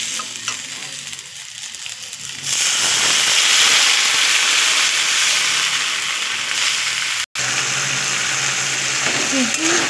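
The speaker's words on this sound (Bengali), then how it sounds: "আর একটু ভালো করে কষিয়ে নেব।" Curry masala sautéing in a pan, starting as a quieter stir and then swelling into a loud, steady sizzle and hiss with stirring scrapes, broken by one brief cut near the end.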